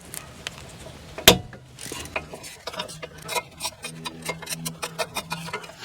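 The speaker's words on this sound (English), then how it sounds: "See if we can get on here with an extension and a 12mm socket. And we're gonna loosen this first." Ratchet wrench with an extension and a 12mm socket loosening the belt adjuster on a 2.2L Toyota Camry, giving a sharp clunk then a run of rapid, even clicking up close, with no talk.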